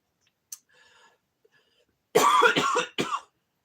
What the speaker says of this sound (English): Mama's just coughing.